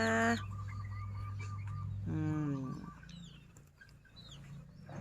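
A bantam chicken clucks and gives a short strained crow, close by, with a voice briefly speaking before and after amid quiet room noise.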